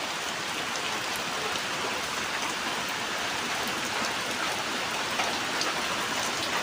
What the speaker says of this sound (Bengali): বৃষ্টি পড়ছে ঝুমঝুম করে, কাল থেকে বৃষ্টি শুরু হয়ে গেছে আমাদের এদিকে